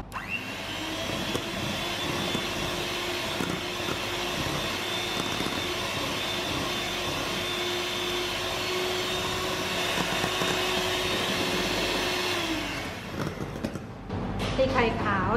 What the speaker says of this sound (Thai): ตีไข่ขาวจนตั้งยอดอ่อนแบบนี้นะคะ